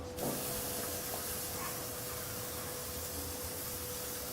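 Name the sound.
ribeye steak searing on a hot grill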